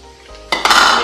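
A utensil scrapes and clinks against a pan while flour is stirred in for a broccoli gratin sauce, a sudden loud metallic scraping burst that continues close-up after a quiet start.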